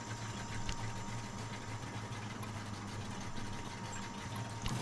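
A truck engine idles in the off-road driving game Spintires, a steady low rumble that stays even and continuous throughout, with faint mechanical vibration and no voices over it.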